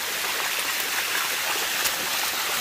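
Waterfall in Thailand with rushing water pouring and splashing in a steady, loud, close roar throughout, no talking.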